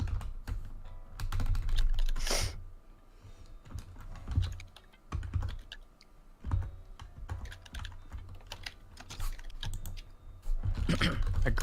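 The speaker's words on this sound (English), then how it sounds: "Aggressive typing noises." Fast, forceful typing on a computer keyboard: dense bursts of sharp key clicks and heavier thumps come in uneven flurries throughout, close and moderately loud, with no voices.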